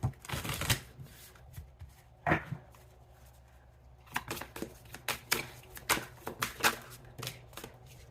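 Tarot cards are shuffled and drawn by hand at close range, with quick riffling bursts and soft flicks and taps as single cards are pulled, followed by a rapid run of card snaps near the end.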